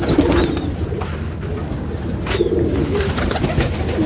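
Pigeons coo steadily in a hot pigeon loft, low rolling calls repeating close by with a brief wing flutter, no talking.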